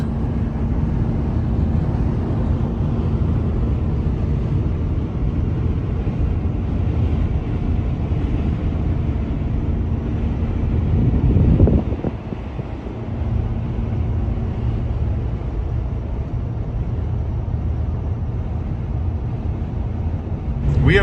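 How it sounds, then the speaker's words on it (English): A strong headwind buffets a truck hauling a trailer across Wyoming, a loud, constant rumbling roar of wind and road noise with a steady engine drone, briefly surging midway. "We have a huge headwind."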